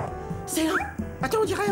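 Brief cartoon dog yips and whimpering barks from a hitchhiking dog floating on the ocean, heard under someone speaking French in an animated show.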